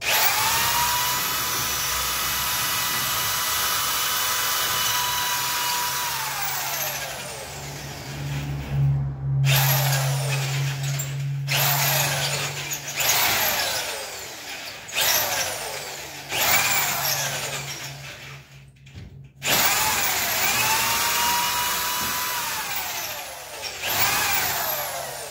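A power drill bores a hole through artificial turf, its loud whine running in several bursts with sharp stops and restarts between them.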